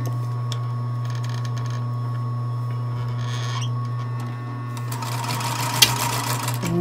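A sewing machine stitching a sleeve onto a tiny orange sweater, a steady close mechanical whir with a low hum that picks up into faster, busier stitching toward the end.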